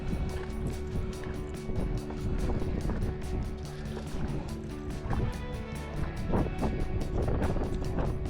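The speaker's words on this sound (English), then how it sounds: "you can catch fish in a wind, even this bad wind" Strong, steady wind buffets the microphone on open water during a fishing trip, a continuous loud rush with gusty surges and hull noise and no talking.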